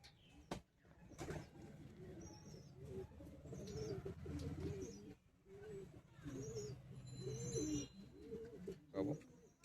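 Madrasi and Giribaz pigeons in a loft give repeated low, rolling coos close by, with a few higher chirps between them.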